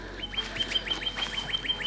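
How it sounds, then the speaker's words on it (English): Many small birds chirp and tweet in quick repeated calls during a solar eclipse as the light fades to twilight, a steady rhythmic chorus at moderate distance with no talking. "And like all the birds starting."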